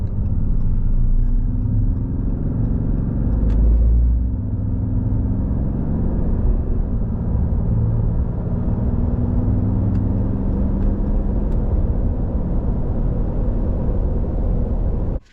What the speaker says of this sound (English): Let's catch this run one more time on a 0 to 75 from that point of view.